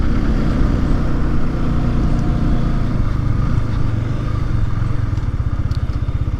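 An eight-year-old motorcycle with a stock engine runs and revs up, its dense low rumble steady and close throughout with no talking.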